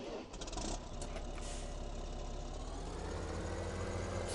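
A tractor engine in a farming simulator game drones at a steady low pitch, faint and continuous, with a slight rise in revs near the start and no talking.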